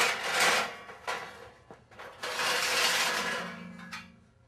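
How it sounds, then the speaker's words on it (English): An outer panel slides off the manifold of a finger assembly, giving a few soft scraping and rubbing bursts with small knocks, close by and moderately loud, with no talking. "the outer panel just slides off of the manifold"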